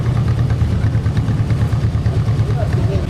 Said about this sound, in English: a 1952 John Deere Model MT